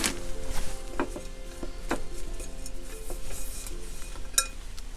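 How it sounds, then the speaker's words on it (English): Bonsai soil mix is poured and scooped into a pot for repotting a maple, giving a gritty rattle with scattered clinks and taps of granules against the container, steady and close with no talking. "I'm just going to obviously start by getting a nice layer of bonsai mix in the bottom"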